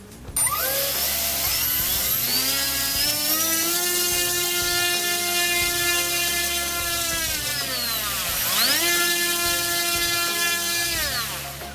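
NTM Prop Drive 28-26A 1200kv brushless motor spinning an 8x4.5 propeller, whining up to full throttle with a rising pitch, holding a loud steady high whine, briefly dipping, then spinning back up.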